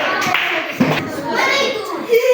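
Schoolchildren in a classroom clap their hands in a few loose, uneven bursts, mixed with excited kids' chatter and a teacher's voice close by.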